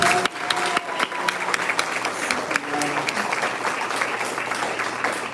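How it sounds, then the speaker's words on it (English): Applause from an audience at a school event honoring food workers, a steady wash of clapping with a few cheers and some voices mixed in, fairly close. "A round of applause for our food workers."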